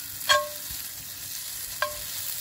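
Garlic hits hot oil in a cast iron pan, a soft continuous sizzle with two brief clinks of a utensil against the pan, close and without talk.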